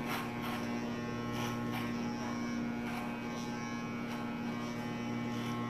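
An electric hair clipper with a number 4 guard buzzes steadily through a haircut, a constant motor hum running close and even for the whole stretch, with no talking.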